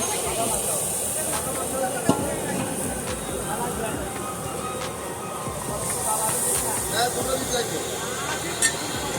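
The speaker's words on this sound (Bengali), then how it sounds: "ঝোলটা ফুটে গেছে এবার মাছগুলো ছেড়ে দেওয়া হলো" A large pot of fish curry for a 600-guest feast bubbling on the boil, giving a steady broad hiss with faint pops throughout, loud and close.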